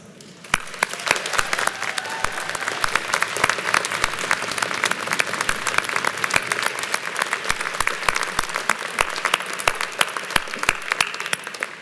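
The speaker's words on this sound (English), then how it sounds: "This is your opportunity to say thank you with your thunderous applause." Graduation convocation audience applauding, a steady roar of many hands clapping sustained for over ten seconds with sharp individual claps standing out, building after a quiet start.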